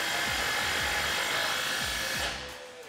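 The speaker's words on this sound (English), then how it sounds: "With an 18mm socket, tighten this down." A power tool drives an 18mm socket to tighten a body bolt on a Jeep Wrangler JL 4-door during a rock slider install, a loud continuous whir with a few ratcheting pulses, close up, winding down near the end.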